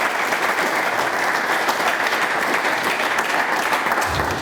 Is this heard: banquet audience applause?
yes